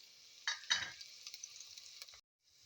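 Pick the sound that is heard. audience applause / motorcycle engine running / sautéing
sautéing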